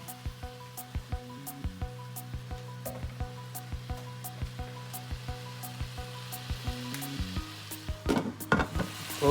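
Chicken sautés in ginger and garlic for white chicken biryani, a constant close sizzle with regular sharp taps of a spoon against the pan, growing louder and busier toward the end.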